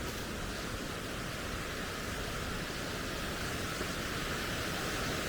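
Arthog waterfall in Wales, a steady, dense roar of falling water that fills the whole clip at a constant level, with no voices.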